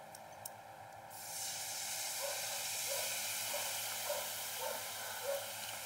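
Water poured into a hot pan of spiced pumpkin curry with ground coriander, chilli and turmeric sets off a steady broad hiss that rises after a second and holds, with a few soft bubbling pops.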